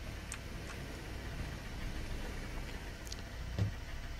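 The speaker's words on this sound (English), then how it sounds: "Alright, let's turn my engine on." A car engine idles with a low, steady rumble in the driving game Jalopy, holding an even drone throughout with no clear start-up crank or revving.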